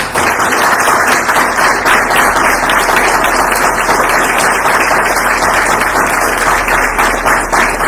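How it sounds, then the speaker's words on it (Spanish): A panel audience claps for a speaker, a loud, continuous, close wash of many hands lasting around eight seconds with no voices over it. "Javier, y los aplausos para ti."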